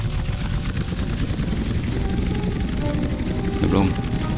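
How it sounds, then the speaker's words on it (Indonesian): A helicopter in GTA San Andreas at pilot school, a continuous loud rotor and engine drone with a thin high whine, steady throughout, with some speech over it. "Sekarang helikopter."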